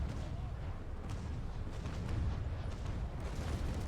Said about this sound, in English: You are very quiet compared to the cannon fire in my ears.